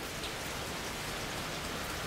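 Steady rain falling outdoors, a soft even hiss of drops on surfaces, faint and continuous with no voices.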